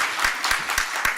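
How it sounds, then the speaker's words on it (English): An audience applauds at a 2014 poster awards announcement, a steady patter of hand claps filling the room without pause. "give my friend Alan Jakimo a round of applause"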